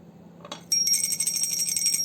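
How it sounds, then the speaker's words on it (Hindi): A hand bell rung during aarti worship for Laddu Gopal at home, a bright metallic ringing that starts after a soft tap and continues steadily, close and fairly loud. "तो घंटी बजाकर करेंगे आरती।"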